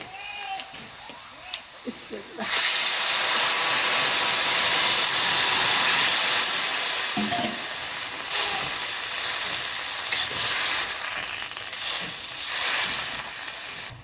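Boiled winter vegetables hit a pan of oil and browned onions, bursting into a loud, sustained sizzle after a quieter start, with occasional stirring scrapes and brief speech beneath the frying.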